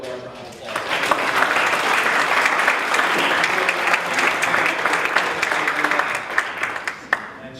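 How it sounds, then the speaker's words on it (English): A large round of applause for Roberta at a poetry slam session, a dense, steady wash of clapping from an indoor audience that holds for several seconds and then thins out. "But we need to give her a large round of applause."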